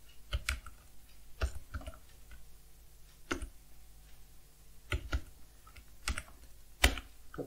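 Password being typed on a computer keyboard during a database login, a few scattered sharp key clicks spread over several seconds, close and fairly quiet with no talk.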